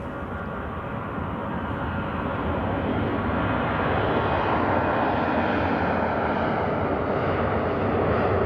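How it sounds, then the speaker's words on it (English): A Condor airliner taking off at Zurich Airport in winter, with a steady, loud jet engine roar that builds slightly over several seconds and holds as a continuous broadband rumble, heard from nearby with no talk. "Condor cleared for takeoff to Frankfurt."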